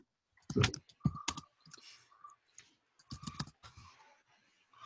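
Bursts of keyboard typing during an online meeting, several quick clusters of close clicks separated by short pauses.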